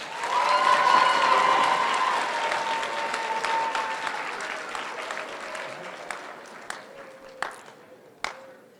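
Applause from an audience at an eighth-grade promotion ceremony, loud at first and slowly thinning out, with a few last scattered claps toward the end.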